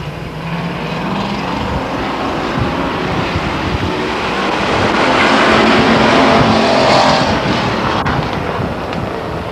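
Several race cars roar off the start at Stockton 99 Speedway, a dense, loud engine wall that swells toward the middle and then eases slightly, heard without talk.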